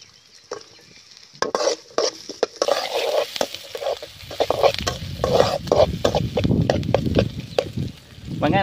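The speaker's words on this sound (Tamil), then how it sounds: "எண்ணெய் நல்லா காஞ்சிருச்சு, இப்போ வெங்காயம் போட்டுக்கலாம்." Onions dropped into hot oil for a Tamil snail curry (nathai kari), starting with a few sharp clatters and stirs, then settling into a steady sizzle with repeated spatula scrapes and knocks close by.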